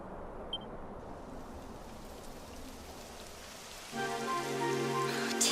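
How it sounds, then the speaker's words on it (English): Rain starts falling in the Dragon Quest 11 video game, a faint steady patter that grows slightly louder near the end, joined by a soft tonal background layer. "It would have to go and start raining, wouldn't it?"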